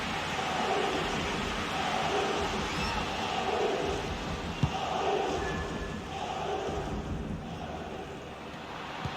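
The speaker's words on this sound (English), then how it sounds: "listen to the crowd. They're expectant." A stadium crowd in the FIFA 20 football video game, a dense, steady roar of many voices with swelling chants rising and falling in slow waves, filling the background continuously.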